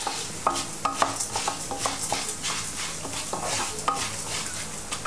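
Cumin seeds frying in a pan give a steady sizzle, with a spatula scraping and tapping the pan in quick irregular strokes up close, and no voices.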